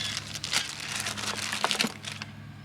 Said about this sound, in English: I've got a plastic bag in here.